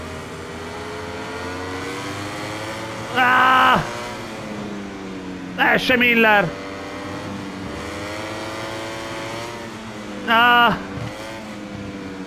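Racing motorcycle engines in the MotoGP 22 video game drone steadily throughout, rising and falling in pitch as the bikes run, with a player's short excited shouts breaking in over them.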